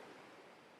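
The Alaknanda river babbles in a faint, steady rush of flowing water with no breaks.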